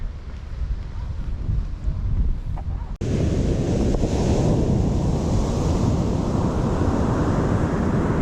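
Ocean waves on a foggy California beach make a steady, loud rushing wash mixed with wind buffeting the microphone, a softer stretch giving way abruptly to a fuller roar that continues to the end.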